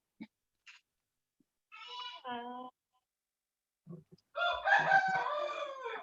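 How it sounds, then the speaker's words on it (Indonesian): A rooster crowing in a classroom setting, a short drawn-out call heard twice in brief bursts, then overlapped by louder voices and chatter. "kan ayamnya bunyi"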